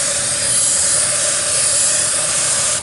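Loud, steady hiss of a water spray jet blasting the inside of a paint roller cover while it is cleaned, a continuous broadband rush without pauses and without any talking.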